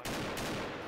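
A burst of AK rifle fire in a shooter video game: a rapid, dense volley of shots packed into under a second, loud and close.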